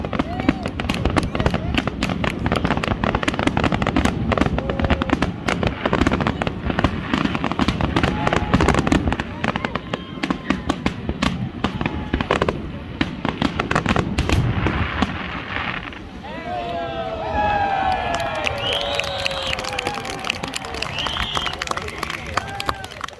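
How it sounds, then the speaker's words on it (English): Continuous crackling and popping bursts of a July 1 Canada Day fireworks display in Sylvan Lake, Alberta rumble without pause, dense and loud, with a crowd murmuring underneath and faint whistling near the end. "it all culminates on the 1st of July with a magnificent fireworks display"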